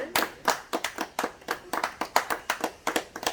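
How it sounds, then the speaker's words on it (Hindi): An audience at a gathering claps to honour someone: a steady run of crisp, evenly spaced hand claps, roughly six per second, close and moderately loud, with no talking over it. "आप लोग एक बार जोरदार ताली बजा करके इनको सम्मानित करें"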